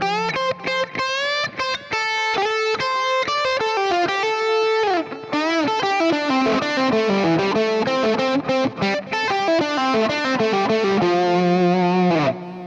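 Distorted electric guitar through the lead channel of a Fractal preset for the FM3, FM9 and Axe-FX III, playing a steady run of sustained, singing lead notes and bends, loud and continuous with no talking.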